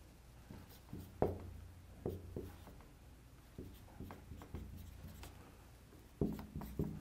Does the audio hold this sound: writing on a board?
yes